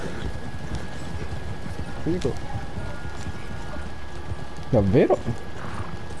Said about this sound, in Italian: quindi questi cavalli possono correre all'infinito volendo?